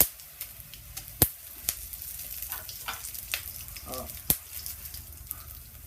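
Coriander and chili dropped into hot oil in a pan for kadai paneer, a faint crackling sizzle punctuated by several sharp metallic clinks and taps.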